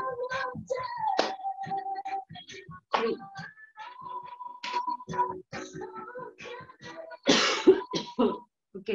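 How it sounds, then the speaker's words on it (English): Repeated harsh coughs and throat clearing in short bursts, close and fairly loud, with a stronger fit near the end. "my cough is back"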